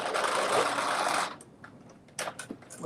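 A sewing machine runs in a brief, close burst while stitching a dress front to its back at the shoulders, then stops, followed by a few light clicks and handling noises.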